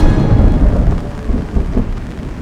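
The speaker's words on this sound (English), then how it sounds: "the rain comes." Rain and thunder at Watkins Glen race track, a loud, close rumble of thunder rolling over steady heavy rainfall with no voices.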